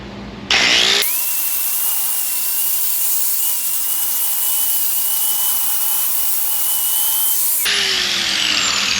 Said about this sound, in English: let me grind the bottom of that real quick